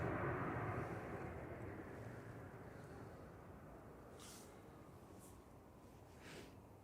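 An airliner inbound from Antalya roars with thrust reversers after landing at Manchester Airport, a loud, broad rushing blast that starts strong and slowly eases off, with no talk over it.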